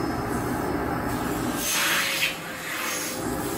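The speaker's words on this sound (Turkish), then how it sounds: "Kapat artık süpürgeyi." An electric vacuum cleaner runs steadily at close range, a constant whining hiss with a brief surge of airy rushing midway, and no voices.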